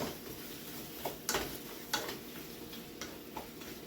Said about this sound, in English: Mix that up a little bit.